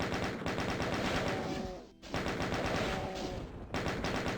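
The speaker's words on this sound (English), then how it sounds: "Maybe we'll take out the chain gun here because of the distance." Rapid automatic fire from the chain gun in DOOM Eventide, a dense continuous burst that briefly drops out near two seconds, then resumes loud and steady with game sounds mixed in.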